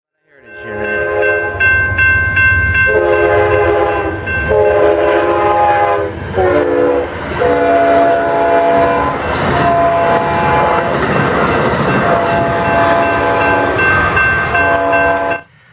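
The Amtrak Texas Eagle passenger train roars past loudly at Center Street in Girard, Illinois, with a blaring multi-tone horn sounding repeatedly over the steady rumble of the cars.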